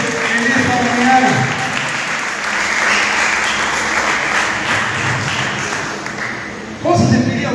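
A church congregation applauds during a Spanish-language service, a dense wash of clapping filling the room for several seconds before it thins and a voice and music come in near the end.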